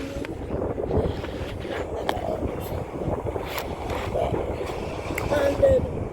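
Wind buffets a microphone outdoors at a gas station with a continuous rumbling roar and gusty swells, loud and close, while voices faintly mingle underneath.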